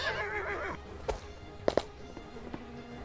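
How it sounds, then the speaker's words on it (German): A horse whinnies briefly in the video game Starbound, followed by a few hollow thuds and taps, with game-like ambience and faint background voices. "Ich höre Pferde."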